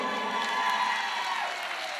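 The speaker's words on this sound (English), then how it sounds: "Big round of applause for Aston." An audience at an autism talent show applauds and cheers for a performer, a dense, even wash of clapping held at moderate loudness for the full two seconds.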